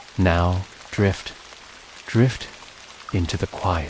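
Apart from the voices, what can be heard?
rain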